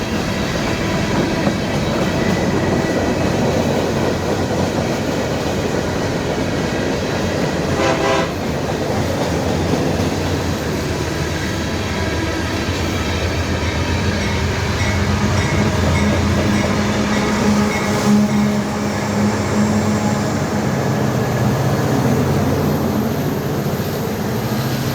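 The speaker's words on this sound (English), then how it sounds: "an eastbound coal train came onto the other track, led by another CM44 AC and an SD70 Mac." An eastbound coal train led by a CM44AC and an SD70MAC locomotive rolls past steadily, with a continuous loud rumble of wheels and loaded hopper cars and brief horn-like tones.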